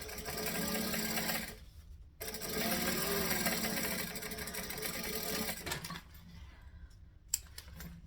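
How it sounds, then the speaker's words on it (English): A sewing machine runs close up, topstitching fabric beside a zipper in a steady rapid whir. It stops briefly once and then fades out near the end, alone without speech. "And then I'm going to top stitch both of them down away from the zipper."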